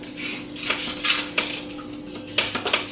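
Butter goes into a skillet heated to medium-high for pancakes, with close metallic clinks and scrapes of a utensil against the pan over a quiet background hum and no talk.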